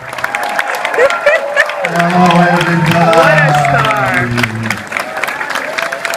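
A convention audience claps and cheers at a fan expo, a sustained wash of applause under someone speaking loudly over it.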